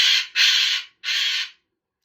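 A pet bird calls loudly inside a room: three harsh, crow-like squawks close to the listener, the first two nearly run together and the third after a short gap, then silence.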